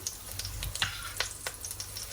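Onions sizzling in a frying pan at the start of cooking beef stroganoff, a steady soft crackle with quick sharper pops scattered throughout, close and moderately quiet with no talk.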